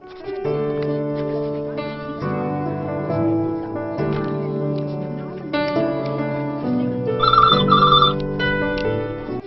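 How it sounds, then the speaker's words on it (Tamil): A telephone rings in an indoor scene from the Tamil film Cocktail, its electronic ring tones standing out in bursts over continuous background music and dialogue. "அந்த ஃபோன் எடு"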